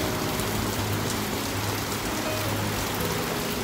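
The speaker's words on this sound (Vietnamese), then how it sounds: "Và hiện tại giờ mưa đang lớn thêm" Heavy rain pours steadily onto a corrugated metal roof at a Vietnamese home, a dense unbroken roar of hiss and drumming that fills the whole stretch with no voices.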